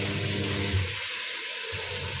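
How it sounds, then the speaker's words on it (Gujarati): Water gushes from an opened tap in a household yard, a steady loud hissing rush with a brief dip in the low rumble partway through, heard alone without talk. "ભાઈ એણે નળ ચાલુ કરી દીધો છે."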